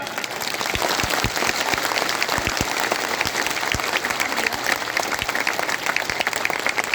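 A large crowd at a pension rally in Varanasi applauds in a sustained wash of clapping, with a few sharp, close individual claps standing out over the steady roar.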